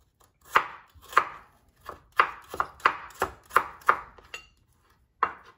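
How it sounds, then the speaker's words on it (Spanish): A knife finely chops onion on a board for tartar sauce: about ten crisp, evenly spaced blade knocks, close and clear, with a short pause before the last cut. "Vamos a picar finamente la cebolla."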